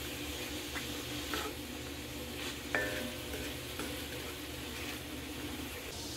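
Onions and minced garlic sautéing in a hot pan, giving a steady close sizzle with a few soft stirring scrapes and no talking.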